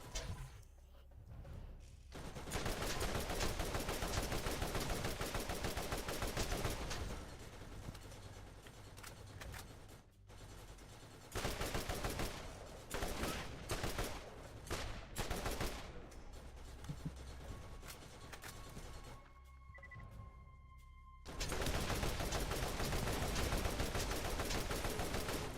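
Gunfire in the Borderlands video game sounds as dense, loud bursts of rapid shots and booming blasts, broken by short quieter gaps over about 25 seconds.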